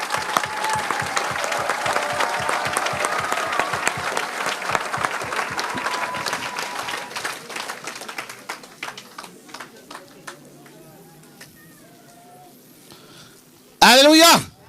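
A church congregation applauds Jesus with loud, steady rhythmic clapping that gradually thins into scattered claps and fades, while a voice speaks over it, ending with a brief burst of noise.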